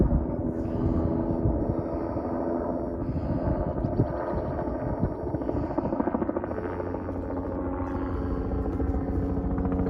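A police helicopter circles overhead with a steady, loud rotor drone and engine roar that holds throughout, close and continuous with no talk.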